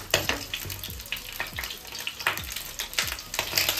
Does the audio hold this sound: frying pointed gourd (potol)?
yes